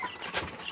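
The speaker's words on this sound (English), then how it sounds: "Take up a small chicken now, baby" A small chicken being picked up gives a brief, faint cluck against noisy background hiss.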